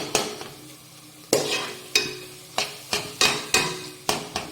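A spoon scrapes and knocks repeatedly against a pan while scooping beetroot halwa into a vessel, giving a series of close, sharp metallic clacks about half a second apart.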